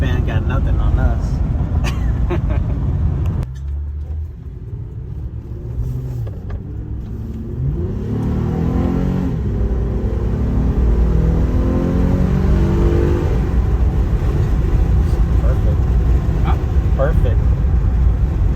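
A minivan fitted with a Borla exhaust drones and rumbles from inside the cabin, dipping briefly and then swelling into a deeper revving pull as it accelerates, while people talk over it.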